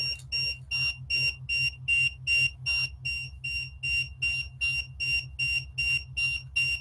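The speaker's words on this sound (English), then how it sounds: "Sorry about the beeping sound too." An EMF meter beeps steadily about three times a second, shrill and continuous, over a low droning hum.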